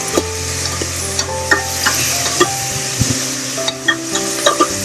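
Onion, garlic and ginger sizzle and fry in a pan for a bamboo shoot dish, with a steady close hiss broken by frequent sharp clicks of a utensil stirring against the pan.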